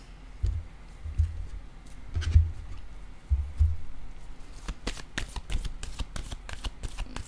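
Tarot cards shuffled close by, with a few low riffling thumps followed by a run of crisp, quick flicking snaps as the deck is cut and mixed, heard alone without speech.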